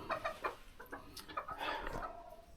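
Hens clucking inside a coop during rain on a homestead, a lively cluster of close, overlapping clucks and short squawks at moderate volume, with no talk.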